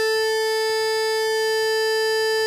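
A Studiologic Sledge synthesizer holds a steady, bright tone with an added 8-foot pulse wave oscillator, sounding constant and alone throughout.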